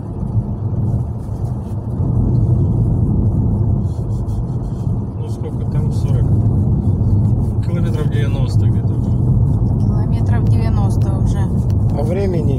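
A car rolls along a road on a long drive, its low engine and tyre rumble steady and close throughout, with people chatting inside over the drone.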